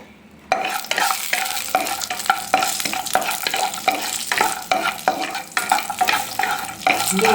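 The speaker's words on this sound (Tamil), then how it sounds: "முந்திரி பருப்பு பார்த்தீங்கன்னா நல்லா கோல்டன் ப்ரௌன் ஆகிற வரைக்கும் கொஞ்சம் வறுக்கணும்" Cashews fry in ghee in a pan, a close, busy sizzle with rhythmic scraping and stirring strokes all the way through, and no voices.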